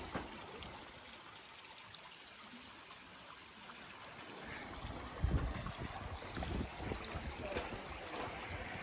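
Steady broadband rush of flowing creek water, growing a bit louder and busier partway through, with no voices.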